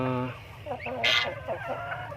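Native hens, a small flock of laying birds, cluck in short, close bursts, with one brighter squawk partway through.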